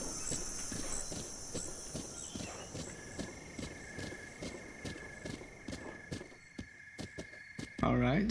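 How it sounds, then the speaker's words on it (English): Giant horse walking at night in Zelda: Breath of the Wild, its hooves giving a steady, fairly soft clip-clop under a faint insect-like background hum, with a sharper sound at the very end. "here we are with the giant horse."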